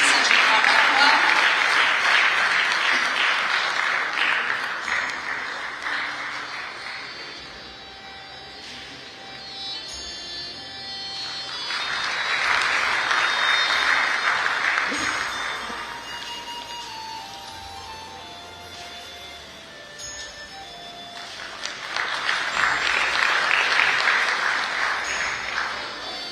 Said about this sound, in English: Let's put our hands together one more time, please, ladies and gentlemen